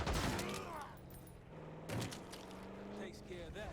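Gunfire in the Call of Duty: Black Ops 6 video game, short bursts of shots mixed with vehicle rumble and other game noise, with a voice speaking briefly amid the action.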